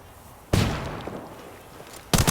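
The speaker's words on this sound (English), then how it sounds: "Lobbing a flashbang." A flashbang grenade detonates in the tactical shooter Ghost Recon Wildlands: a sudden loud broadband bang with a ringing tail, followed by a second sharp burst near the end.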